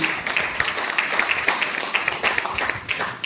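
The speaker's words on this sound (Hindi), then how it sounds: "आगे आइए ना सर, बाकी हाथम दीजिए सर, कॉफी के वजह जोरदार ताली होनी चाहिए।" Audience clapping at a direct-selling training seminar, a dense, steady wash of many hands kept up for several seconds with no speech over it.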